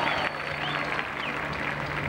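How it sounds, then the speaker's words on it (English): An audience applauds the Motor City Organization at a Detroit No Crime Day event in 1986, a dense, steady clapping with faint crowd murmur beneath. "One more time, give a nice round of applause for the MCO, Motor City Organization."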